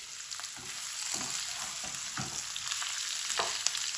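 Bitter gourd frying over high heat in plenty of oil, a continuous soft bubbling sizzle with faint crackles and occasional stirring sounds, fairly quiet and steady, no voices.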